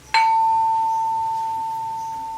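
A Cirebon gamelan wilah, a bronze key sounding a note of the laras miring scale, is struck once, giving a bright, pure ringing tone that sustains and slowly fades, close up with no other sounds.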